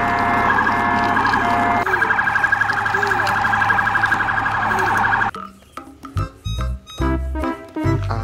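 A toy police car siren wails loud and close in a rapid electronic warble for about five seconds, then cuts out and is followed by scattered clicks and knocks.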